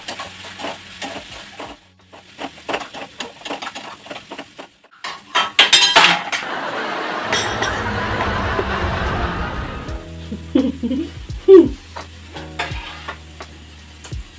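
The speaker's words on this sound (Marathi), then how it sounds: "सगळं मिक्स करून घेऊया." Spiced food with homemade garam masala is stirred and fried in a pan, with a spoon clinking and scraping against the metal over a steady sizzle and clatter, close by.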